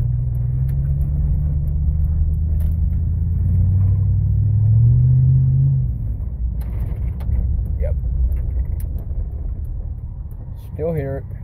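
Car engine with a ticking fault under load, idling very low at about 500 RPM on a city street drive: steady low rumble that shifts partway through, with people talking over it.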